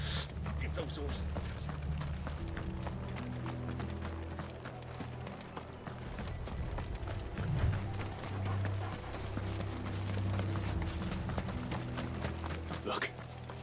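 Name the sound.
horse hooves clip-clopping, from Final Fantasy XVI video game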